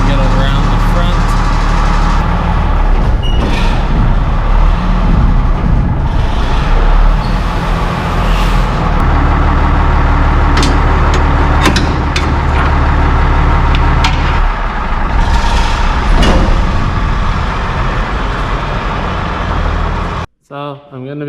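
A 1966 Mack R model truck's engine runs loud and steady throughout as the truck is pulled forward, a constant low diesel rumble with clanks over it that cuts off abruptly near the end.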